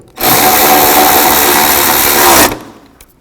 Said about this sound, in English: And tighten the two nuts down first.